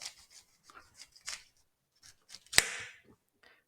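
Knife cutting a cauliflower into steaks at an angle: light scrapes and taps on a board, then one sharp crunching slice that trails off, close and quiet, with no talking.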